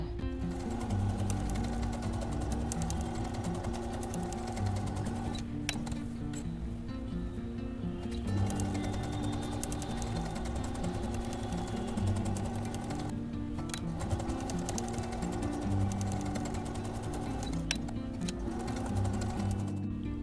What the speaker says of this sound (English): So first we will quilt the center 3 lines and then we will quilt the side.